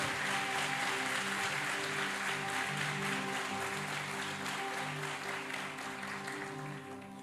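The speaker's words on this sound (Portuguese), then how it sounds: "aplauda Jesus com mais força" Sustained applause from a church congregation praising Jesus, continuous dense clapping over a steady organ-like tone, easing slightly toward the end.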